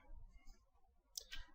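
A few light, quiet clicks of keys being tapped on a computer keyboard while a shell command is entered, heard alone with near silence between strokes.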